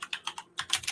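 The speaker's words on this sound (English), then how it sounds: "I got to finish typing it apparently." Quick clicking keystrokes on a computer keyboard, a short burst of about eight taps at an uneven rhythm, fairly quiet and close.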